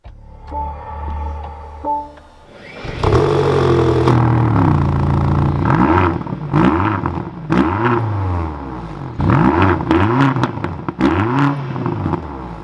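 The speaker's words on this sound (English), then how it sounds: "But let's fire this up. With my foot on the brake, that red button is down below. We can bring this to life." A 2023 BMW XM: a soft electronic chime, then the engine bursts into life with a loud start-up roar and settles before a series of sharp rising and falling revs, heard close and without talk.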